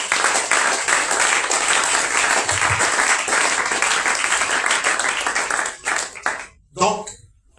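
A church congregation at a commemorative conference applauds in a long, dense wave of clapping that fades near the end, with voices calling out over the applause.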